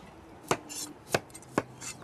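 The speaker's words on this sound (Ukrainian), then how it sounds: "Ну а тепер нарізаємо овочі." A knife chops through radishes on a cutting board in three sharp, evenly spaced thuds about half a second apart, close and clear with no talking.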